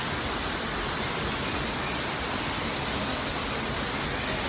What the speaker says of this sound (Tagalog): Ang sarap nung kaluskus ng ng agos ng tubig, sarap ay nung sarap pakinggan.